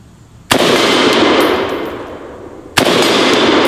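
A Galil .308 (7.62) rifle fires two loud, sharp shots a couple of seconds apart. Each report rings out and decays slowly outdoors.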